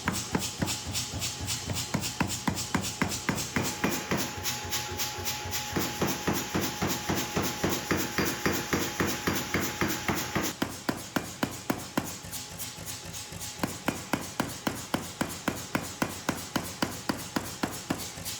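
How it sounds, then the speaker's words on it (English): A power hammer draws out a fused Damascus steel bundle made from car shock absorbers, its rapid, evenly spaced heavy blows running without a break and staying loud and close throughout. "we switch to the power hammer to draw it out into a long, flat bar"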